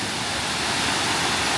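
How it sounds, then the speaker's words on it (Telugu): Webster Falls in Hamilton, a tall waterfall, roars as a steady, dense wash of falling water, broad and constant throughout without a break. "వాటర్ ఫాల్స్ చాలా హైట్ నుంచి కింద పడుతూ ఉంటాయి"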